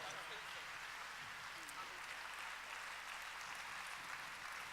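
A church congregation at an evening mission gathering keeps up steady, continuous applause, faint and distant, a soft even wash of clapping with no pauses throughout.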